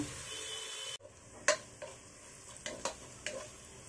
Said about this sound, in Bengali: এখন এটাকে নেড়ে নেব যতক্ষণ পর্যন্ত না গোল্ডেন ব্রাউন হয়।